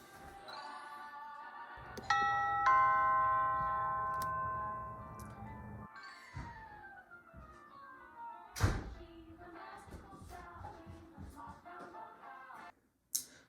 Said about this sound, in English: say you're watching your favorite TV show and someone rings the doorbell